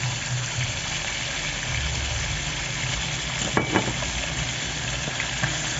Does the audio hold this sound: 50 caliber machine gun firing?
no